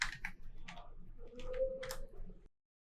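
Handful of close computer keyboard keystrokes typing a short word, crisp separate clicks in a quick uneven burst over a faint hum, ending in silence.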